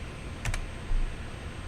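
Two quick keystrokes on a computer keyboard close by, a short double tap over a steady background hiss, with no talk.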